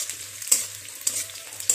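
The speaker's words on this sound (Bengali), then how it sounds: "পেঁয়াজটা অতিরিক্ত বেশি ভাজা করব না, একটু জাস্ট হালকা লাল লাল হবে" Onions fry lightly in a pan, giving a soft steady sizzle broken by three sharp scrapes of a spoon stirring them, close and alone with no talk.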